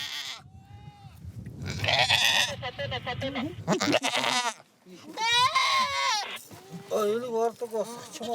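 Goats bleat repeatedly in the Mongolian desert, wavering cries from several animals overlapping and fairly close, with a low rumbling background underneath.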